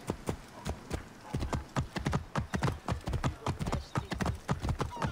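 Steady clip-clop of a horse's hooves at a brisk, even trot in the video game Assassin's Creed Origins, loud and close, with no voices over it.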